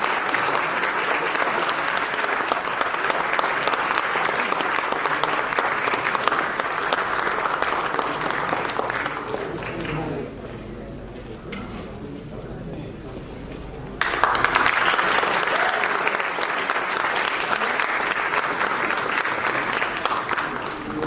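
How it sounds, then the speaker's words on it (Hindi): Loud, sustained applause from an audience at an Indian classical arts event honoring a director, steady clapping throughout with a brief dip partway before swelling back to full volume. "जोरदार तालियों से स्वागत कीजिए"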